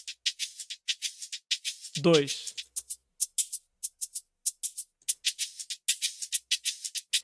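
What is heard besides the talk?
shakers playing an Afrobeats rhythm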